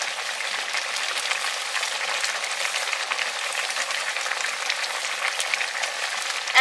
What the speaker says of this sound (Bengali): এবারে মাছগুলো দিয়ে দেবো।